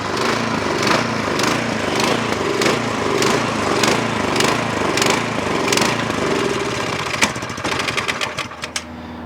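A small snow blower engine runs steadily at raised throttle with a fast, close, loud chugging rhythm, then sputters and dies out near the end.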